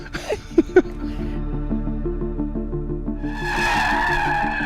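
A Mercedes C63 drifts with a long, loud, sustained tire squeal, first a few sharp engine blips, then a steady screech that grows harsher and broader toward the end.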